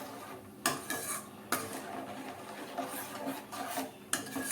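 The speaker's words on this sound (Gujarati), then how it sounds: "આ રીતે આપણે ઉકાળતા જશું અને ચલાવતા જશું" A spoon stirs and scrapes inside a metal pot of boiling grated-tomato chutney, with a few sharp clanks against the rim among steady rasping strokes, close by with no talking.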